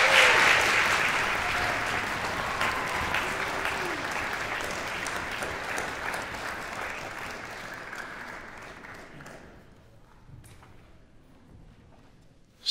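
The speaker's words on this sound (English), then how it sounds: "Let's give him another round of applause." Audience applause fills a concert hall after a young people's symphony concert, a dense and steady clapping that gradually thins and fades away over several seconds.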